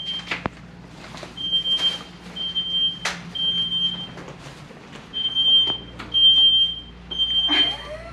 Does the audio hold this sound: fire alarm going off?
yes